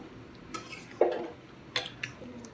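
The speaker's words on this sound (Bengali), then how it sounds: "সে ভেজে রাখা আলুগুলো আমি দিয়ে দেব। ভালোভাবে আলুটা দিয়ে আমি একটু কষিয়ে নেব" A spoon scrapes and clinks against a pan as fried potatoes are stirred into spice masala for Kashmiri aloo dum: a few soft, scattered knocks and scrapes, close and quiet.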